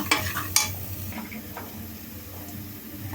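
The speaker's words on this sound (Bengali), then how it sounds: "কিছুটা ধুনের গুঁড়া দিব এখন মশলাটা কষিয়ে নিব" Spice masala with coriander powder being stir-fried for beef in a pan, a low steady sizzle with a couple of early scrapes and clinks from the stirring spoon, close and moderately quiet.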